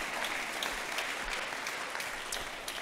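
Church congregation applauding during a sermon, a steady dense clapping that fills the short stretch at even loudness.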